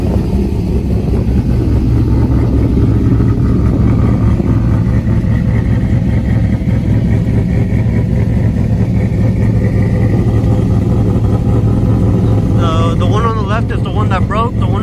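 A cammed 5.3 V8 idles with a broken exhaust, giving a loud, continuous, close rumble that stays steady throughout with no pauses.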